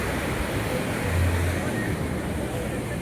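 Sea waves wash in a continuous broadband roar along the shore at the Goa port area, mixed with strong wind rumble on the microphone, loud and steady throughout.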